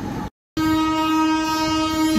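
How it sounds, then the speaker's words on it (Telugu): A WAP-7 electric locomotive hauling the Chennai–New Jalpaiguri superfast express sounds a loud, sustained horn close by, with a brief cut near the start before the steady tone carries on over rail rumble. "అదిగా వచ్చేస్తుంది చూడండి బండి. Rap 7 locomotive."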